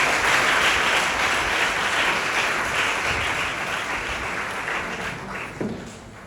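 Sustained applause from a large audience honouring senior high school girls, a broad roar of clapping that starts loud and slowly tapers, with no talk over it.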